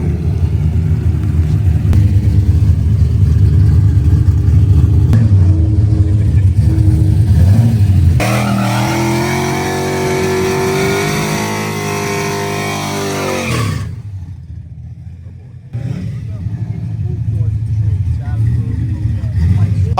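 A turbocharged Foxbody Mustang drag racing down the track, its loud engine roaring and revving hard through gear changes before fading, with other engines and a voice around it.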